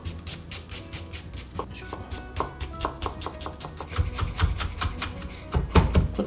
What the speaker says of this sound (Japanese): 長ネギみじん切りしていきます。